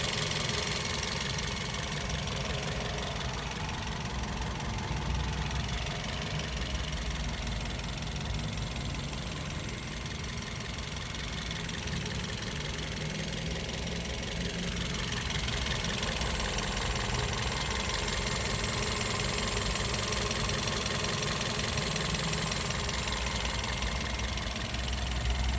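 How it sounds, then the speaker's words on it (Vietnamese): A 2013 Toyota Vios E engine idles steadily at a car dealership, heard up close. The low, even hum runs unbroken for the whole stretch with no talking. "Máy nổ rất là thì thầm nhé."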